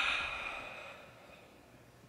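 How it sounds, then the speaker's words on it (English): One long breath drawn in deeply and audibly, an airy rush that is loudest at the start and slowly fades, close and alone, with a faint click at the very end. "Deep breath."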